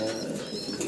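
House pigeons at a pigeon farm cooing softly, a brief low murmuring call close by with no talk.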